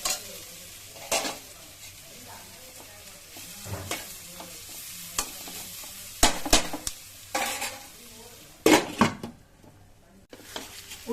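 A spoon stirs ginger-garlic paste into an egg curry in a pot, producing irregular scraping knocks and clatters over a low simmering sizzle, with several sharper bursts and no talking.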